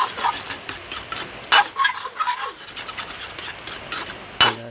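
Egg frying in a pan for nasi goreng, stirred with a utensil: soft sizzling with repeated scraping strokes in an uneven rhythm and a few sharper clinks, close and moderately quiet, no talk.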